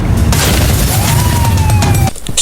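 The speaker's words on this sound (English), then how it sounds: "So Stacey heads over there to save her by distracting her dad with a firework she put in a bin." A firework goes off inside a bin in a film scene, a loud sustained crackling burst with a whistling streak, then cutting off abruptly at the end.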